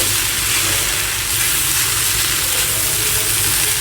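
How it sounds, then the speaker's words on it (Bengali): Okra (bhindi) frying in a pan gives a loud, steady sizzle and hiss throughout, a dense, continuous crackle with no pauses. "ভেন্ডি ভাজি করতেছি"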